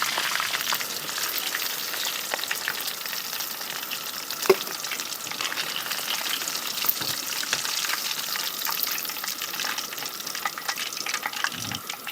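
Chicken pieces frying in hot oil for Arabic chicken mandi biryani, a continuous dense crackling sizzle with occasional sharper pops and stirring clinks, steady and close throughout.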